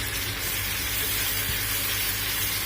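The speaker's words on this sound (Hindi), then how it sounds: "ये देखें, हमने इसको 2-3 बार चलाया है और इसमें से आ रही है भुनने की आवाज।" Masala frying for Kolkata-style chicken bharta gives off a steady, dense sizzle and crackle in the pan, close and continuous throughout with no talking.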